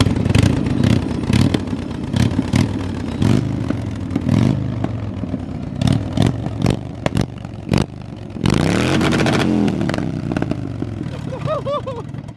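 A Harley-Davidson motorcycle engine runs at idle up close, its rough, loping low rumble steady throughout, with clattering rattles and knocks from loose parts and a louder burst near the end.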